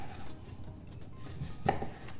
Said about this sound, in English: so cut them into 1/2 inch slices